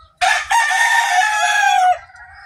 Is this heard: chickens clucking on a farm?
yes